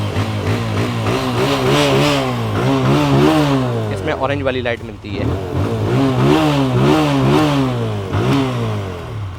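A TVS Apache 160 motorcycle is revved repeatedly with the throttle, its engine note sweeping up and falling back in rhythmic surges, loud and close, while someone talks over it.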